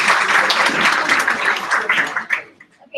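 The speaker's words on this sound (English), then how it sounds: "give them a round of applause for Buster." Audience of teachers at an elementary math professional development session applauding, dense clapping that fades out toward the end, leaving near silence with a few faint sounds.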